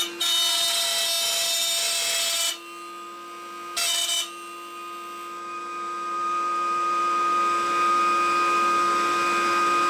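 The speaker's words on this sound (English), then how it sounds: "So let's get those grooves routed in our uprights." Router cutting a 1/4 inch wide groove into wooden uprights for a heat vent deflector, a steady high whine that drops away briefly, returns in a short burst, then settles into continued motor hum.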